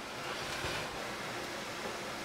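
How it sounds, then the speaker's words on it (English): Water in a pot for canning homegrown pickles rolls at a boil, a dense hissing, bubbling rush that holds steady and fairly quiet for a couple of seconds with no talk. "Sounds like my water is boiling"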